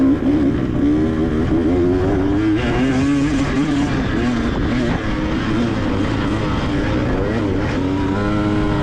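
A motorcycle pulling in second gear at low RPM on a race track, a loud continuous engine roar with wind rush, its pitch gradually wavering and climbing.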